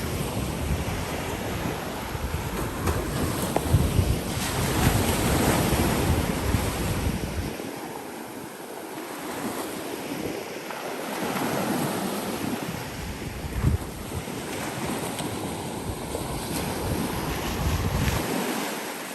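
Ocean surf washes onto a beach with a continuous roar that swells and eases, while gusting wind buffets the microphone throughout.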